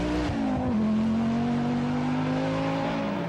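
An Audi Quattro rally car's five-cylinder engine roars loud and close, a sustained rasping note that shifts pitch early on and then holds steady.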